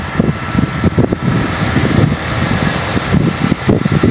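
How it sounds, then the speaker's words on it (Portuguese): Strong wind blows at a truck stop on a Brazilian highway, a loud continuous rumbling buffet with gusty bursts against the microphone. "Tá ventando bastante aqui."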